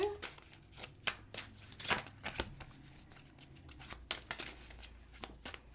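Tarot cards are shuffled and drawn by hand, giving a series of crisp riffling and slapping bursts at an uneven pace, close and fairly quiet, with soft rustles in between.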